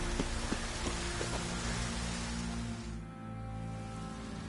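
Steady rain hisses across the whole stretch, dense and even, with a faint low hum underneath and a slight drop in intensity near the end.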